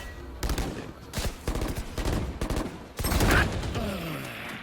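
Gunfire in the Valorant video game as a Sova player shoots an enemy, with several loud sharp bursts and rapid volleys spread over a few seconds, close and dominant.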